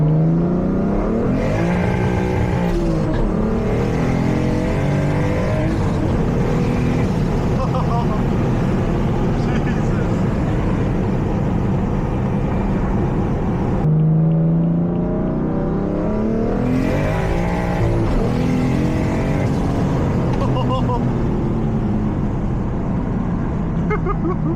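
A single-turbo BMW F80 M3 engine accelerates hard through rising revs, loud and close, with a brief break between two long pulls, while a voice talks over it in places.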